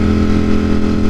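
A Ducati Streetfighter V4 motorcycle with an aftermarket eBay exhaust runs at a steady, loud, close idle with a throbbing low rumble, ridden in winter cold.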